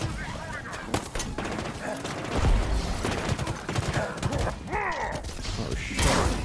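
Gunfire from shielded guns in a Halo video game, bursts of rapid clattering shots and mechanical clanks running throughout, heavier blasts midway and near the end, with a voice over the fighting.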